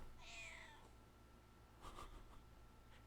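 A house cat gives a faint, drawn-out meow near the start, followed by a softer sound later, low in level against a steady background hum with no talking.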